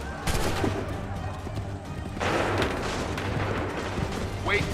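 Musket volleys crack out across a battlefield in Assassin's Creed 3, with sharp broadband bursts and a rolling roar of massed fire, layered over a low sustained rumble and shouted commands.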